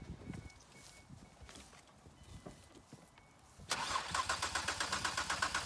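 A Ford Escape compact car engine cranks, starting after a few seconds of quiet rustling and clicks as a steady, rhythmic starter whirr that pulses evenly and fairly loud to the end.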